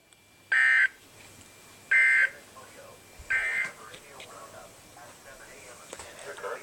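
An Emergency Alert System broadcast for a tornado watch: three short, harsh electronic data bursts come in a row at even intervals, loud against a quiet background, followed by faint noise.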